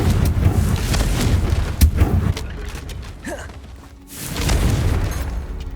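A Confringo fire spell explodes in Hogwarts Legacy: dense rumbling blasts and crackling bursts, a sharp crack near the two-second mark, a brief lull, then another heavy burst of booming fire.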